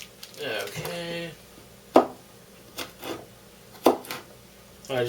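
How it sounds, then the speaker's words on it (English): Knife chopping vegetables on a cutting board in a home kitchen while making a seafood soup, a few sharp, spaced thuds near the mic with a voice talking at the start. "I just start chopping them."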